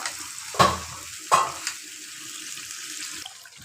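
Goat trotters sautéed in a pan give a soft, hissy sizzle, with two sharp scraping stirs early on and a quieter tail of frying.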